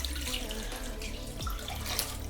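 Water runs steadily from a tap, splashing continuously into a pot, close by and fairly loud with no voices.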